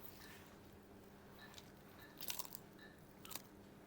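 Bites and chews of a crunchy tortilla triangle filled with sausage, stretchy cheese and crispy onion, heard as several sharp close-up crunches in two clusters over quiet background.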